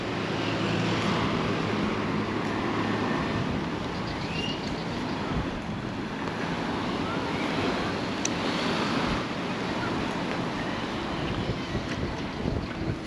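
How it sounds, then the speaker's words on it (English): Brisk wind buffets the microphone over choppy sea waves washing onto a beach at Palmanova, Mallorca, a steady, loud rush of surf and gusts throughout with no speech. "It's very breezy, which is making the sea look a little bit choppy."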